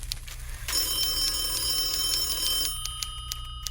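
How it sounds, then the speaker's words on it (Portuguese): An office telephone rings late in the evening, a bright metallic bell trill holding steady for a couple of seconds over low background hum, with faint clicking afterward. "Telefone a essa hora."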